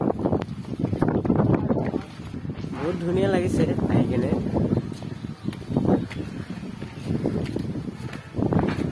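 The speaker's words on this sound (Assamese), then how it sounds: "বতাহও মাৰি আছে অলপ অলপ" Wind buffets the microphone at a hilltop viewpoint near a shrine in Mankachar, a steady rushing roar running under continuous nearby talk.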